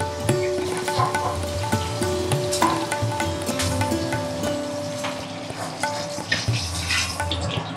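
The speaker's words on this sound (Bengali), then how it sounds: "এই তেলের মধ্যেই আমি আলুটাও ভেজে নিচ্ছি।" Cauliflower and potato pieces fry in oil in a pan, a steady crackling sizzle with occasional stirring clinks and scrapes of a utensil against the pot, close and continuous.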